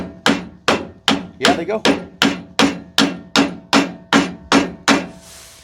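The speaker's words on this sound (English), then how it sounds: "I'm gonna go ahead and see if I can pound these on" Bearing buddies are pounded onto trailer wheel hubs with about twelve sharp, evenly spaced, ringing metal hammer blows, loud and close. A voice speaks briefly near the end.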